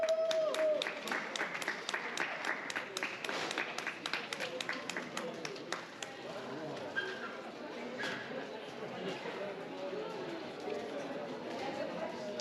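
A faint audience gives scattered applause for the winners at an indoor sprint competition, with rapid claps at first that thin out into murmuring chatter.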